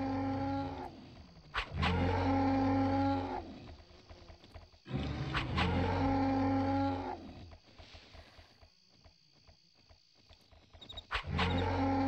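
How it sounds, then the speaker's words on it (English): Cows in the video game Asheron's Call moo in long, loud, low drawn-out calls, several overlapping bellows repeating across the scene with brief quieter gaps between them. "Here's the cows."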